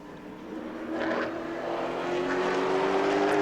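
A Pro Late Model race car on its final qualifying lap at New Smyrna Speedway, its engine droning loud and steady as the pitch slowly climbs, with no talk over it.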